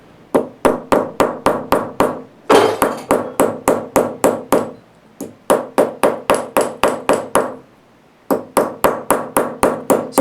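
A hammer lightly taps the outside of a copper shell being formed, giving rapid, even strikes in steady bursts with short pauses between runs, each blow ringing briefly and metallically, close and clear with no talking.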